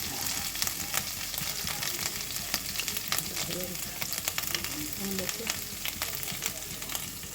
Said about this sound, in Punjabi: ਥੋੜਾ ਜਿਹਾ ਬਰਾਊਨ ਹੋਣ ਤੱਕ ਭੁੰਨਾਂਗੇ